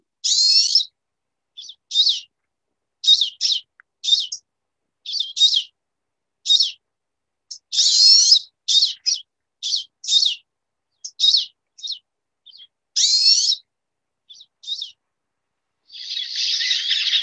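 A winter flock of birds calling outdoors, a steady series of short, high, slurred chip notes repeated irregularly over many seconds, clear and fairly close, with a fuzzier rush of sound at the end.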